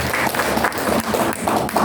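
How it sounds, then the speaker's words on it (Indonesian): Congregation applause at a Sunday worship service in a church, a dense, steady wash of many hands clapping that fills the whole short stretch, with voices mixed in underneath. "Tepuk tangan dulu dong."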